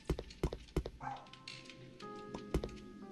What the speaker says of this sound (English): Why am I leading my dog with me?